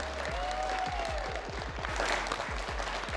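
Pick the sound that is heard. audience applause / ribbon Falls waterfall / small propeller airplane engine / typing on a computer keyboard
audience applause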